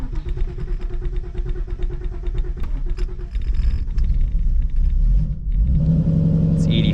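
A Ford SVT running on E85 fuel cranks and catches, with a low engine rumble that steadies, then swells louder partway through into a rough idle. A brief high squeak comes at the very end.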